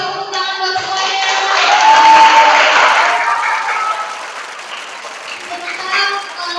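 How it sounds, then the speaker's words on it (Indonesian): Applause for contestants at a class VIII school quiz competition, a broad wash of clapping from a room of students that swells mid-clip and tapers, with crowd voices and talk mixed in. "untuk babak pertama kasih tepuk tangan buat semuanya"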